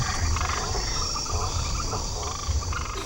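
Frogs croaking in an animated story about the plague of frogs, a dense chorus of repeated low croaks in pulsing bursts over a constant insect-like trill.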